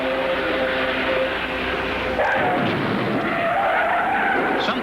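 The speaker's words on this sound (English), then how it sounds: "Something broke in the right rear, and the car is forced into the wall." Indy race car in practice at the Indianapolis Motor Speedway in 1986, engine droning loud before a sudden harsh tire skid with broad scraping noise as a rear-suspension failure sends it into the wall.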